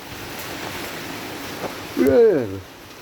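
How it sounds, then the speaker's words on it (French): A heavy rain downpour drums on a small, leaky garden shed after a storm, making a dense, steady roar throughout. A short voiced sound rises briefly near the end. "Et là encore une énorme averse qui tombe."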